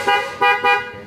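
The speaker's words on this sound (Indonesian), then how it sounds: "klakson" A Denso waterproof horn on a motorcycle gives three short, loud, close blasts, the second and third longer, each a buzzy brassy tone.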